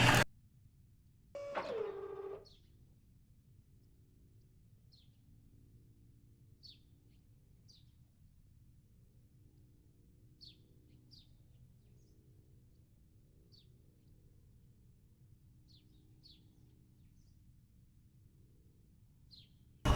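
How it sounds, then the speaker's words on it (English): Faint, sparse bird chirps in a 1941 Channel campaign flight game, scattered across a quiet, low hum, with a brief louder burst near the start. "Listen to the birds in the game"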